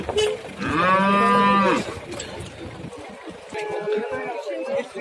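A dairy cow with her calf, just down from summer pasture, moos loudly and close at the Uchkun livestock market, then lows again more softly over a murmur of market background noise.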